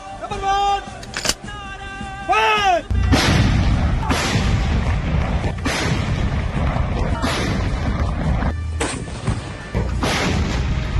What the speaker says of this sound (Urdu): پھر توپوں کی آوازیں اور گھن گرج سنی جائے